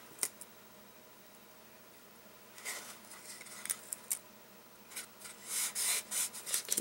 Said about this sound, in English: I'm going to start by taping off the lid